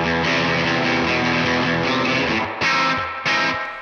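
A guitar plays through a TC Electronic Ampworx Combo Deluxe amp modeller with a clean, lush tone and spring reverb, sustained chords ringing out loud and alone, with two sharp new strums near the end.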